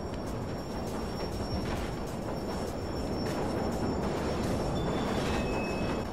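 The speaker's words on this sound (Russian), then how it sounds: "метро, где можно в нужный момент бросить бедолагу под поезд" A subway train in the PS2 fighting game Def Jam Fight for NY rumbles steadily with a loud, dense roar and faint high squeals of wheels on rails.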